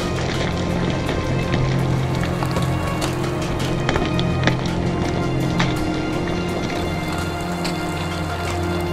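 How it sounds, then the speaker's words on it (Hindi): Wind and rain sweep across a mountain road in Pakistan as the weather worsens, producing a loud, constant wash of falling drops and gusting air with no pause and no voices. "यहाँ हवा चल रही है और बारिश भी हो रही है"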